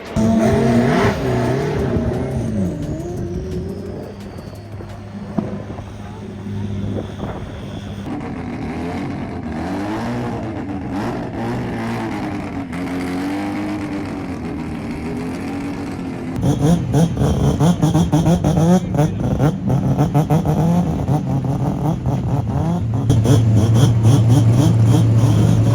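Twin-turbo car with a 3D-printed inlet manifold revving hard at a World Time Attack Challenge track event, a sustained loud engine roar that swells and climbs in pitch, joined by other vehicles and rising further near the end.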